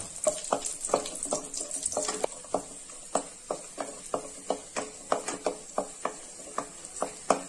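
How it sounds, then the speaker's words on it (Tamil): Cashews and raisins frying in ghee in a kadai, a quiet sizzle punctuated by a steady run of sharp spoon scrapes and taps as they are stirred, close and evenly paced. "ஒரு கடாயில நெய் ஊத்தி இருக்கேன் நெய் ஊத்தி நான் வந்து முந்திரி பருப்பும் அந்த திராட்சையும் போட்டுருக்கேன்"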